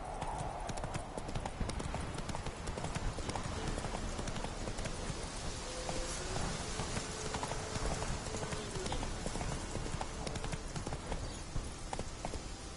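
The horse Roach gallops in The Witcher 3 game, rapid rhythmic hoofbeats pounding continuously over a busy ambient background, moderately near, with no talk.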